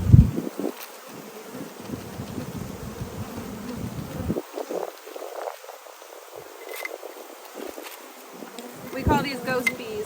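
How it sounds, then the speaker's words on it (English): Bees buzzing close by in a steady, soft drone, with a few louder passes near the start and end and light rustling around them. "We call these ghost bees."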